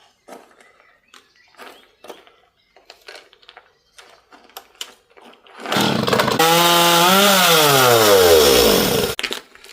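A chainsaw cutting wood for a cottage staircase: scattered knocks and handling noises first, then the saw roars loud and close for about three seconds, pitch dipping under load before it stops.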